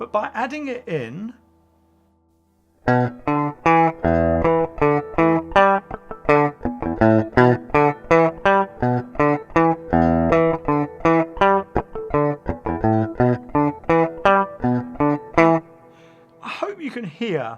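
Electric guitar plays a riff with percussive muting, choppy muted strikes between clean sounded notes in a steady funky rhythm, loud and close, with brief gaps near the start and end.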